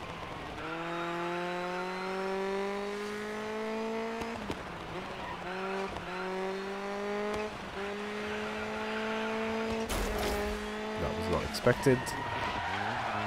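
A rally car in the racing game Dirt 5 revs loudly with a steady engine drone that climbs and drops through gear changes, with brief tyre skids and handbrake slides; a voice talks over the engine throughout.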